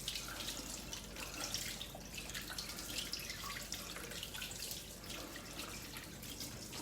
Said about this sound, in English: So just quick rinse in my hands.